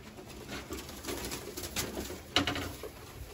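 Konya pigeons cooing in a loft, soft repeated low coos against a quiet background with faint rustling, no talking.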